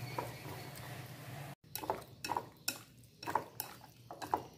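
Squid being mixed with sa tế chili paste in a bowl: rhythmic, close scrapes and clinks of a spoon against the bowl, repeating about every half second after a brief pause, with no speech.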